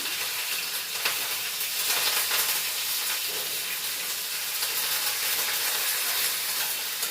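Curry leaves hit a pan of chicken marinated with yogurt, setting off a loud, continuous hissing sizzle that holds evenly throughout with no talking.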